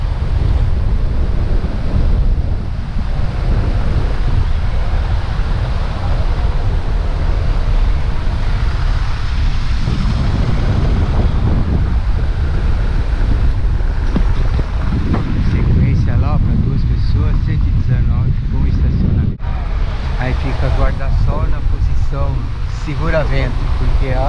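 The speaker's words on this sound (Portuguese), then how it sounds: "com esse vento gelado" Cold wind gusts across the Lagoa da Conceição shore, a steady, loud broadband roar buffeting the microphone from start to finish, with a washing, surf-like texture and a brief lull near the end.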